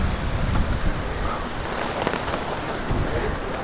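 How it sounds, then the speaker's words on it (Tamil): Heavy rain pours steadily outdoors around parked budget cars, a dense broadband hiss that stays loud and constant throughout with no talking. "மழை ரொம்ப வருது"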